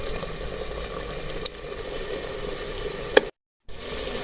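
Black chickpeas frying in ghee in a pan, a steady soft sizzle running throughout with a couple of sharp clinks, then a short silent gap before the frying resumes.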